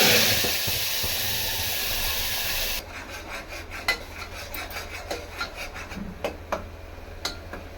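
Ground masala paste for chicken gravy hitting hot oil in a pan: a loud steady rasping sizzle for the first few seconds, then a quieter crackling fry with scattered pops and clicks.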